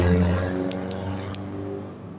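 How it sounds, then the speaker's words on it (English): A loud car roars past on a residential street, the engine rumble strongest at first and then fading gradually as it moves away. "I really hope that car is fast, as loud as it sounds."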